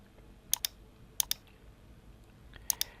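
Keys clicking on a computer keyboard while numbers are entered into a resource sheet, quiet and close, in three short pairs of crisp taps separated by pauses over a faint background hiss.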